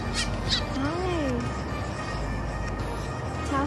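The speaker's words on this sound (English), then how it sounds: "Tahoe bluebird." A Tahoe bluebird, heard outdoors in a cooking-in-nature setting, gives a few squawky, rising-and-falling calls of moderate loudness over steady background noise, with another short call near the end.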